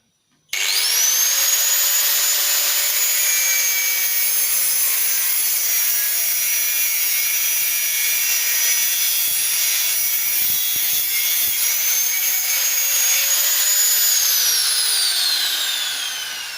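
An angle grinder starts abruptly and cuts through a workpiece held down underfoot, a loud, sustained high whine with a grinding rasp throughout, then winds down at the end.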